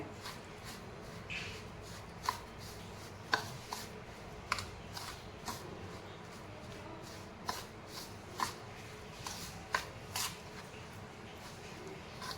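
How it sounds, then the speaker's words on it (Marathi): Semolina (rava) idli batter with curd being stirred in a bowl, giving soft, faint wet squelching scrapes that repeat in irregular strokes over quiet background hiss. "या सगळ्यांचा आपण बॅटर बनवून घेऊ। मिक्स करून घेऊ याला आपण चांगल्या प्रकारे।"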